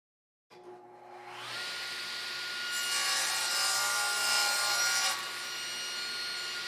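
A saw cuts through wood for a laptop stand, starting abruptly after a short silence and running as a loud, steady whine and rasp with a brighter, harsher stretch mid-cut before easing slightly, with a shop vacuum drawing alongside.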